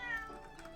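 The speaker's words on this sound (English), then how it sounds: "Meow, there's a cat." A cat meows once in the Great Ace Attorney Chronicles video game, clear and close, with a faint game background underneath.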